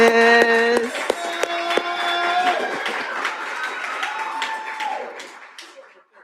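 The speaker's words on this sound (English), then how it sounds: "I hear all this cheering" A school board meeting audience cheers and claps after a measure passes: dense, bright applause with whoops and scattered vocal tones, loud at first and gradually thinning until it fades out near the end.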